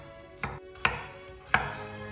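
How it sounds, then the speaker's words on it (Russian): A knife slices a garlic clove on a cutting board in three distinct, close cuts, each a crisp thud with a brief crunch, spaced unevenly over a quiet kitchen background. "Один зубчик чеснока мелко измельчаю, а второй нарезаю пластинками."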